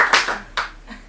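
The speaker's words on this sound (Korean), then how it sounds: "우리 박수 한번 칠까요?" At a weekend meditation gathering, a few hands clap in several sharp, close claps spread over about a second, then die away with no talk.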